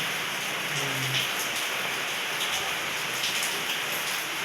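Steady downpour outdoors: heavy rain pattering densely on surfaces in an unbroken wash of sound, even in level with faint low hum beneath.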